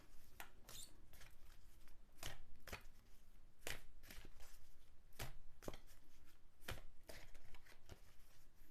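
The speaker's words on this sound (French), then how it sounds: "Alors, je mélange les cartes." Tarot cards are shuffled by hand in a repeated series of crisp riffling bursts and soft slaps, close and fairly quiet, with no talking.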